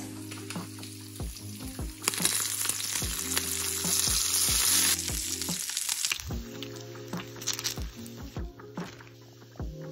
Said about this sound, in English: all we have left is to just wait for the bacon to finish cooking